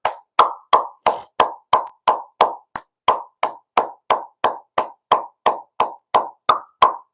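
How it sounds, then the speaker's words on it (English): A lone person claps slowly and evenly, about twenty crisp, close claps at a steady beat with short silences between, in a livestream celebrating Jon Jones's retirement. "Let's give Jon Jones a round of applause"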